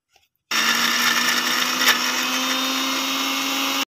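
An electric blender grinds taro with garlic and green chili, switching on abruptly and running at a loud, steady whine for about three seconds before cutting off.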